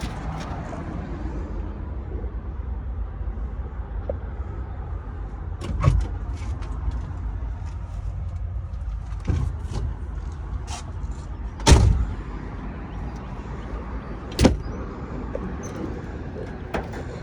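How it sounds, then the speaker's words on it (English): Hood of a 1962 Ford Thunderbird Sports Roadster being released and opened: a few sharp metallic clunks and latch clicks spaced seconds apart over steady outdoor background rumble. "I'm gonna pop the hood"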